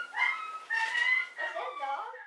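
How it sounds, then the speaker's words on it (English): Recorded pup distress call played through an OUTAD 2-in-1 outdoor portable Bluetooth speaker: high, wavering whimpers and yips in three bursts, close and fairly loud. "Pup distress."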